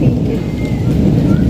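Rain falls at night in a steady, heavy wash with a low rumbling roar, close and loud throughout the brief stretch.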